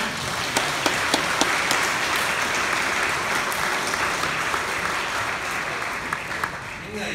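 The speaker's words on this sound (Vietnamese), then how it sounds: "Bây giờ xin chúng ta vỗ một tràng pháo tay để chúc mừng cho tất cả những người cha nhé." A church congregation applauds for the fathers at a Father's Day Mass, sustained, dense clapping filling the whole stretch at steady loudness with a few sharper individual claps standing out.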